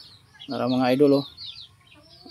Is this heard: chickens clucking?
yes